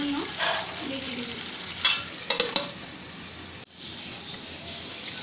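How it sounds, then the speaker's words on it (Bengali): Potato being sautéed with chicken curry in a pan, giving a soft, even sizzle with a few sharp spoon-on-pot clinks near the middle and a brief drop in the frying noise before it resumes. "তো আমি আলুটাকে ভালোভাবে মাংসের সাথে কষিয়ে নিয়েছি"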